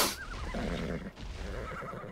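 A horse in the video game ARK neighs loudly in one long, wavering whinny, close and clear, with no talking over it.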